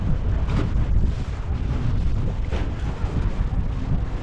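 Steady rumbling wind buffeting the microphone, with a low churning wash of waves on open water by a houseboat in Alappuzha, continuous and loud throughout with no voices.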